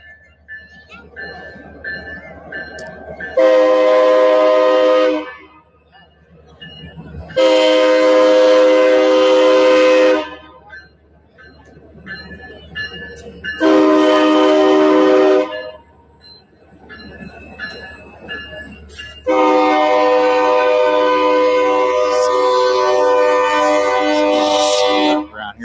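A train rumbles past with several long, loud horn blasts, four separate blows with quieter rolling rail noise between them.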